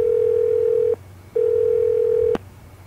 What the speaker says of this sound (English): What happens if I call the phone number?